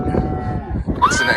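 Cattle being moved along a new trail to pasture moo loudly and close, a deep bellowing call followed by a higher, rising moo amid the herd.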